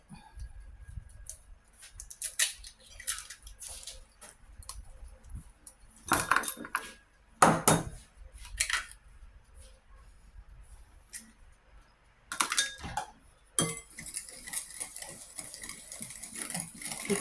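Sugar and two eggs are creamed in a bowl for banana chocolate chip muffin batter, with a utensil clinking and scraping against the bowl in irregular bursts, separated by quieter stretches of soft stirring.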